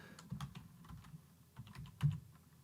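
Soft keyboard typing on a computer, a quick run of muffled close keystrokes over faint background noise.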